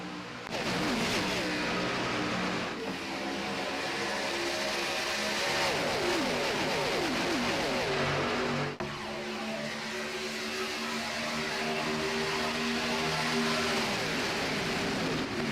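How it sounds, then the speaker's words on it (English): Race cars roaring off at a green-flag restart at Talladega in a racing video game, the pack running two by two. A loud, continuous droning engine roar with shifting pitch fills the whole stretch, with no talk. "Green flag is in the air. We are racing at Talladega."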